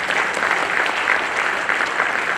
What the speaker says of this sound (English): So, round of applause to the city of Surat.